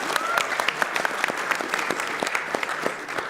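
Hands clap inside an elevator for hype, with a string of sharp, fairly quick claps from a few people and no words spoken.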